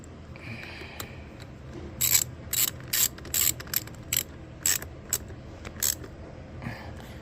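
A ratchet wrench tightens a bolt during a Kicker amplifier wiring install in a 2021-2025 Ford F250, giving about a dozen sharp, close clicking bursts in a steady rhythm with brief pauses between them.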